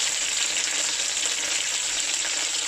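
Cornstarch-coated chicken breast pieces fry in hot oil with a steady, close, bright sizzle that continues unbroken throughout, with no talk.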